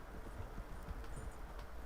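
A horse trots at a steady clip-clop pace in Red Dead Online, its hoofbeats rhythmic and moderately close against a dense wash of outdoor ambience, with no talking.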